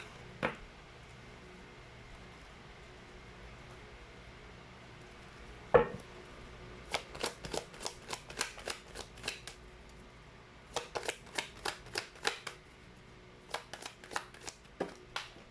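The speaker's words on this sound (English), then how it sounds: "Let's try to pull up more cards." Tarot cards are shuffled and pulled for a pick-a-card reading, giving bursts of quick crisp riffling flicks in several runs with short gaps between them, close and moderately loud with no talking.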